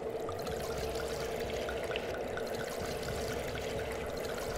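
A steady stream of liquid pours and trickles continuously in the video game Darkwood, soft and even, with no voices.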